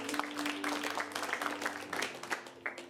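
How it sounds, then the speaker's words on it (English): An audience at an improv comedy show claps for three players taking the stage, a moderate continuous patter of applause with some louder individual claps, slightly distant. "Give them a round of applause."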